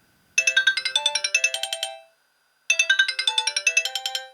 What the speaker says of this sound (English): And the ringtones are polyphonic.